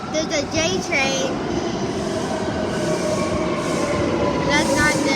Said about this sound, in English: There's a J train.